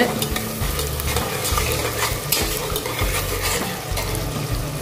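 Ground green peas sauté in a hot pan with a loud, continuous sizzle and hiss. Frequent scraping and stirring strokes sound close by throughout.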